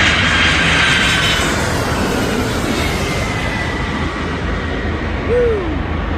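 A large airplane comes in to land at an airport, its jet engine roar loud and close overhead, then receding into a steady rumble with a brief whine near the end; faint voices and wind are heard.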